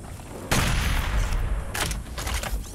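Gunfire in the Doom Eternal video game on Mars Core, a dense burst of loud shots from about half a second, then further volleys with brief gaps, sharp and close throughout.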